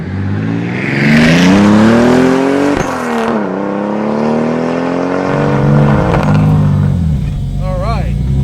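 A 400 WHP 2JZ-swapped Datsun 260Z rat rod accelerates hard, its loud engine note climbing through gears with rising pitch sweeps and shift breaks, heard from inside the car.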